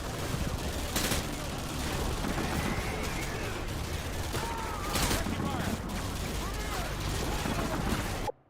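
Heavy gunfire and explosive bursts from a Call of Duty Modern Warfare 2 firefight, with grenade launcher shots mixed into a dense, continuous battle din and a few louder blasts. Voices are heard under the shooting.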